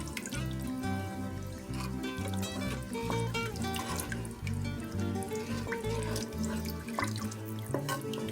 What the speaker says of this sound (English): next we can go ahead and add our 3 cups of water